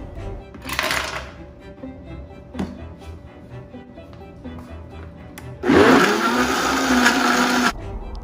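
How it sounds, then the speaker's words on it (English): A few scattered knocks and a brief whir, then a loud high-power blender roars for about two seconds, grinding ice harshly before cutting off. "Add ice ដាក់ទឹកកកចូល and blend it until smooth"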